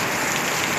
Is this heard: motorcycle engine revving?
no